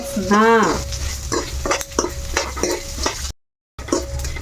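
Ginger and tamarind fry together in a pan, with a close spoon stirring and scraping in short strokes over a light sizzle, someone talking over it and a brief cut to silence near the end.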